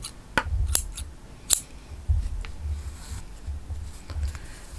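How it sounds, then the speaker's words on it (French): Scissors snip crochet yarn at close range in a few quick, sharp cuts spread across a few seconds, with soft rustling and handling noise in between and no talking. "Pour finir, une maille coulée et on coupe le fil."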